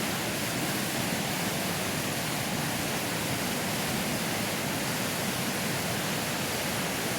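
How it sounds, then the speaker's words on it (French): A small mountain waterfall in the Alpine backcountry gives a steady, dense rushing of falling water, constant and fairly close with no pauses. "Petite cascade."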